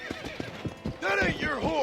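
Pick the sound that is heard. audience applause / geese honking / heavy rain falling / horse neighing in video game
horse neighing in video game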